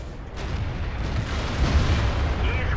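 Tank cannon fire and impact in the World of Tanks video game, a continuous heavy low rumble of battle noise rather than sharp separate blasts, loud and close throughout.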